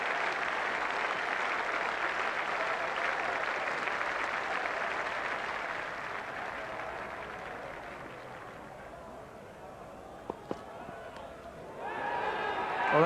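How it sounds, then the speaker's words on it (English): A cricket crowd at Trent Bridge applauds Brian Lara of the West Indies passing 150: sustained, fairly distant clapping that swells and fades, with a commentator's voice talking over it. "acknowledging the applause of the crowd and his West Indies colleagues"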